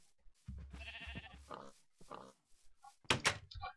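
Sheep bleat in the Minecraft video game near farm animals: a few short nasal bleats, fairly close and clear, with brief gaps and a sharper call near the end.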